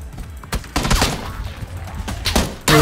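Bursts of gunfire from PlayerUnknown's Battlegrounds, a few separate shots and short volleys spread across the moment, with a loud sharp blast at the end and a little player chatter mixed in.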